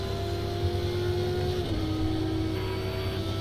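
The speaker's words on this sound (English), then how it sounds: "now a BMW is overtaking the Porsche" Racing car engines in a video game as a BMW overtakes a Porsche, a steady loud engine drone with a tonal whine that shifts pitch midway, no talk.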